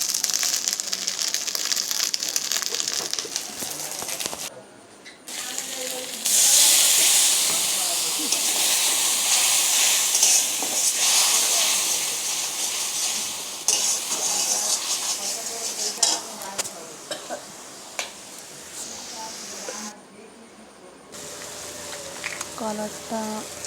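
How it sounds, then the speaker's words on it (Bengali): A spice paste of garlic, chili powder, turmeric and salt hisses and sizzles in a pot as it is stirred. The steamy frying noise is broken by scraping stirs and brief pauses, and a voice talks at times. "রসুন দিয়ে লঙ্কা গুঁড়ো, হলুদ গুঁড়ো, লবণ দিয়ে মশলাটাকে ভালো করে কষিয়ে নিচ্ছি।"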